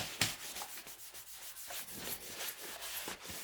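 Rubbing and wiping on the small wheels of a Neato Botvac robot vacuum, a close, soft scuffing friction repeated in short strokes with no talk.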